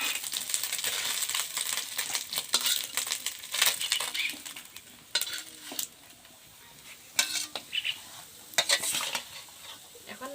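Small fish frying in hot oil in a pan for a traditional small fish curry: a bright, crackling sizzle with intermittent spatter bursts and metallic clinks of a stirring utensil, close and continuous.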